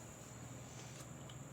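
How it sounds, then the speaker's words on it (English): Crickets chirp in a steady, faint nighttime drone, a continuous high trill running alone without any voices. "So anyways, the fucking crickets."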